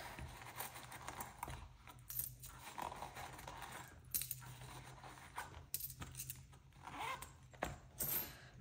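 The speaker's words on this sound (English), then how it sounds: "I'm gonna start by taking my coins out." Small coins clink and jingle close by as they're taken out of a wallet, with faint rustling and zipper-like scraping, no talking.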